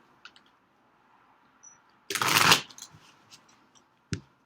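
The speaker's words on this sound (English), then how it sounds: "let's see what we got for tarot." A Deviant Moon tarot deck is shuffled close up: soft scattered card taps, then one loud riffling burst lasting about half a second, followed by a few light clicks and a final sharp snap.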